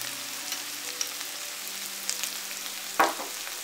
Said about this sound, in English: I'm going to add chopped onion. I'll add half a teaspoon of red chili powder to the onions.